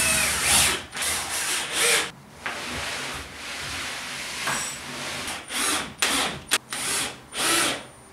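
A power drill drives screws through wooden planks into a miter saw base in a woodworking station, several short whirring bursts separated by pauses, close and fairly loud with no talking.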